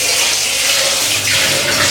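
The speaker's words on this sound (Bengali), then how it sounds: "প্রথমে এটা গরম জল ফেলে ঠান্ডা জল দিয়ে দিই।" Water pours and splashes steadily as hot water is drained from a pot of boiled eggs and potatoes and cold water is run over them in a home kitchen, a continuous close rushing flow with no talking.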